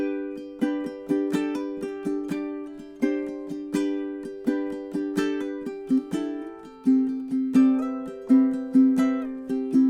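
A ukulele plays a strumming etude at a brisk tempo, with crisp, evenly spaced strums ringing bright and close, alone with no talking.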